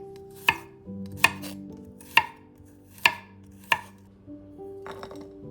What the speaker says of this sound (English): Slice 3 cloves of garlic.